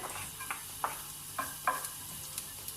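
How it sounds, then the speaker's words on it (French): Garlic sizzles steadily in oil in a pan, with a few soft scrapes of stirring breaking through the hiss. "Dans une casserole, j'ai mis un peu d'huile. Je mets mon ail."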